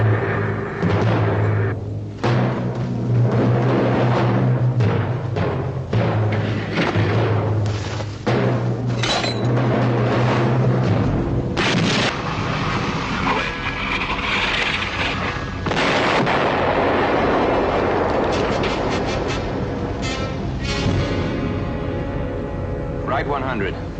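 Artillery explosions and gunfire from a World War II combat drama battlefield scene, a dense run of booms and sharp cracks over a steady low rumble, with voices talking over them.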